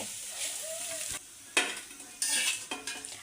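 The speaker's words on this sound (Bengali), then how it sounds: "তেলের মধ্যে কিন্তু ভেজে নিলাম, আমি কোনো পানি ব্যবহার করিনি। তো একেবারে লাল লাল করে ভেজে নেওয়া হয়েছে" Potatoes and pointed gourd fry in oil in a pan, with bursts of sizzling and scraping as a spatula stirs and lifts them, the sizzle rising and falling in short waves.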